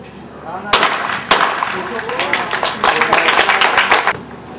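Shotgun blasts at a skeet shooting competition during a bronze-medal shoot-off give two loud sharp reports, then a dense run of rapid crackling pops over steady crowd noise.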